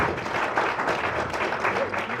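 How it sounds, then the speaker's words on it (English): Audience at a youth summit community event gives a round of applause for a young speaker, a short burst of crowd clapping at moderate level with some voices mixed in. "give him a round of applause"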